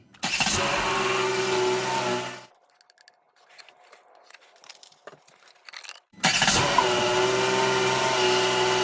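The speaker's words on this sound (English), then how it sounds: "we can start the engine" A Dodge Caravan with a 3.6L engine cranks and fires up, settling into a steady idle close by. A running engine fades out and a quiet pause with small clicks follows before it roars back and idles evenly.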